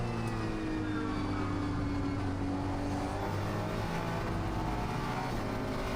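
A racing car at full throttle during Japan Cup qualifying at Okayama gives a loud, sustained engine drone whose pitch sweeps gradually as it runs toward the end of the lap. There are no voices.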